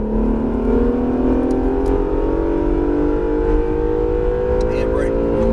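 Acura NSX accelerates hard on a race track, its engine note climbing steadily and loudly through the revs as a close, sustained whine, with a voice speaking over it.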